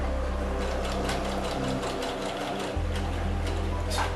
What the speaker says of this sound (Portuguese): Na junção é bom passar com a máquina bem devagarzinho para não correr o risco de ficar patinando